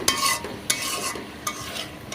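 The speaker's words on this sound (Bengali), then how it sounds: "একই মশলাতে কলা কষায় নিব দিয়ে দিব কলা" Raw banana stir-fried in spice paste in a hot pan: a steady sizzle broken by three sharp spatula scrapes at a slow, regular pace.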